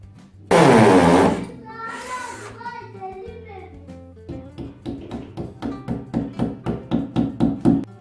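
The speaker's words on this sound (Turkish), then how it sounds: "Delme işleminde dübelin boyuyla matkap ucunun boyunu önce bir ölçün ona göre delin" A short, loud burst of a power drill boring a wall-plug hole into a wall, a pause with a voice, then a rising series of rhythmic hammering pulses nearby.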